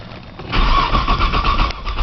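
A car engine cranking on a cold start, a rough close mechanical churning that rises after a brief quiet lead-in and holds unevenly without catching.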